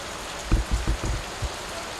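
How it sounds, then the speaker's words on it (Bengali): Rain from a spring nor'wester storm in Brahmanbaria, Bangladesh falls in a steady hiss, with a few soft low thumps of drops landing nearby. "এই যে এখনো বৃষ্টি হইতেছে।"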